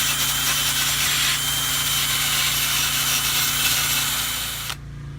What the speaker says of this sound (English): I want to clean them off with the wire brush first.